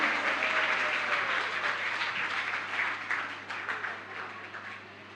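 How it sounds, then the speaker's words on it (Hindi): An audience claps steadily, welcoming a film's director and producer at a Gokul Utsav gathering; dense, sustained applause that is moderately loud at first and slowly thins and fades toward the end. "तालियां रुकनी नहीं चाहिए हैं।"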